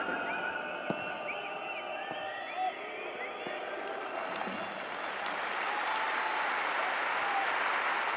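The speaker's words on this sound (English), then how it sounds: "Applause from Kim Sang-sik" Spectators applaud at a football match between Jeonbuk Hyundai Motors and Urawa Red Diamonds, the clapping building into a steady, moderately distant wash of crowd noise over faint whistles and chatter.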